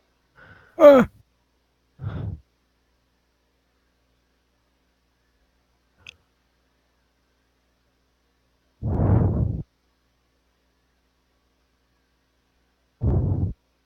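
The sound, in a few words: breathing into the microphone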